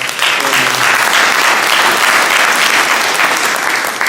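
Loud, full applause from the crowd at a fire district meeting, many hands clapping in a thick, steady roar that fills the whole stretch without letting up.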